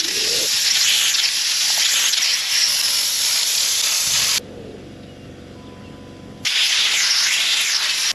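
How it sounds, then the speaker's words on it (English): A spray can dusts a light coat of flat black paint onto a 1939 Caterpillar D4 radiator. Two long, close, steady hissing bursts are split by a brief pause filled with low background noise. "We just want to dust it with a light coating of flat black paint"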